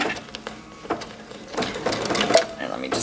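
A home sewing machine stitches a fabric coaster in short, whirring runs with a rapid mechanical patter, heard close beneath a person speaking.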